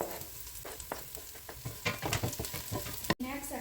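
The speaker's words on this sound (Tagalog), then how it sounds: "Next, garlic." Garlic frying in hot oil in a pan, a close crackling sizzle with rapid stirring clatter that grows busier before a brief break.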